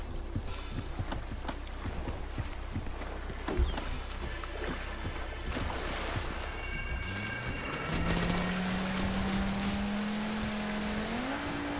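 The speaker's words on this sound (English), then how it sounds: "all you have to do is basically use the boat to cross the lake" Boat crossing a lake in GTA Online, a steady engine drone under game ambience with scattered clicks, and a rising motor tone joining in the latter half.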